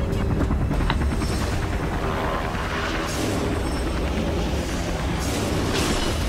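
Black Hawk helicopter in the video game Beyond Two Souls, heard as a loud, dense rotor and engine roar that fills the whole stretch, with booming, explosive bursts mixed in and no talk over it.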